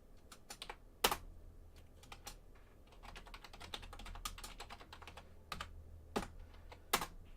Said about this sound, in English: So we're just going to type these out.